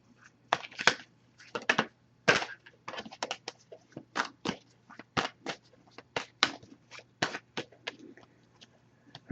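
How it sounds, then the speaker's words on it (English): Tarot cards being shuffled by hand, a quick run of crisp riffling and slapping bursts at a close distance against a quiet background. "So I'll give this a few shuffles."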